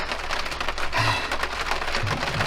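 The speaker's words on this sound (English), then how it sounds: "The heaviest downpour I've ever been in started. Crazy raindrops." A very heavy downpour pounds through the trees along a rugged overland trail, a dense, constant, close roar of raindrops with no voices.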